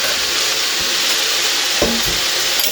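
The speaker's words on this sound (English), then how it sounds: "And just to not let my onion and garlic burn, I'll just give that a stir." Onion and garlic sizzling loudly in a pan for callaloo, a constant close frying hiss broken by a few wooden scrapes and knocks of stirring, with no talk.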